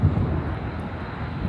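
A BNSF freight locomotive climbs Cajon Pass, its steady low diesel drone rumbling from a distance, broad and even throughout, with faint wind across the microphone.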